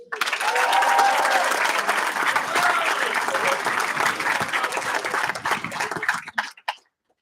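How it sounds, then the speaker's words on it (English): Loud, dense applause from an audience at a closing-day ceremony carries on for about six seconds, then breaks into a few scattered claps and cuts off into silence. "We're gonna have to clap loudly for this one so he can hear us in China."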